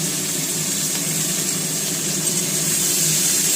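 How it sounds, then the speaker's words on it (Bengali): Sliced bitter gourd fries in a pan, giving a steady, dense sizzling hiss that holds close and fairly loud throughout without pause. "এই যে এখন মা উচ্ছে ভাজাটা করে নিচ্ছে।"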